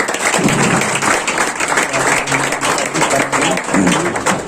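A church congregation claps together in praise of Jesus, a dense, steady wash of applause filling the room, with voices mixed in underneath.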